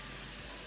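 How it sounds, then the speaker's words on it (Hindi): Heavy rain falling outdoors, a steady dense hiss of drops filling the short stretch evenly without pauses, no voices. "काफ़ी बारिश हो रही है"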